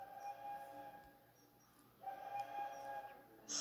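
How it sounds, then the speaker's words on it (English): A cartoon steam train whistle blows in two long, steady blasts with a short gap between them, loud and clear over a low rumble. "Spencer whistled long and hard."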